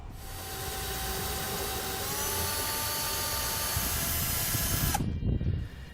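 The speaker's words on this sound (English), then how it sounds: "when you do drill through the support tube, you're going to want to use a 5/16 drill bit" A power drill with a 5/16 bit whirs at a steady high pitch as it bores through a metal support tube, then cuts off abruptly, followed by brief handling clatter.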